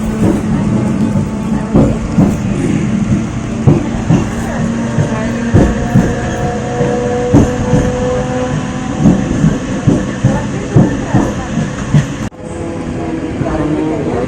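A commuter train pulls away and runs on the rails toward Khandeshwar station, its wheels giving a steady clickety-clack of regular rhythmic thumps over a continuous rumble, heard from inside the carriage with light talk.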